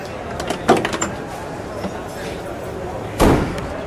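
A 1966 Oldsmobile 442 W-30 hardtop's car door shuts with a solid thud near the end, preceded by a few clicks and rattles of handling, with faint talk around it.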